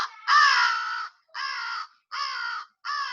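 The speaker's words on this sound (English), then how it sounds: "Yep, that's a crow." A crow caws four times in a row, the first call long and the others shorter, with brief gaps between them, close and loud.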